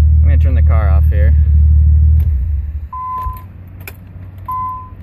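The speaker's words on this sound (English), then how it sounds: "I'm gonna turn the car off here." A 1990 Nissan 300ZX Twin Turbo idles with a deep rumble while someone talks, then the engine cuts off, leaving quiet with two short electronic beeps.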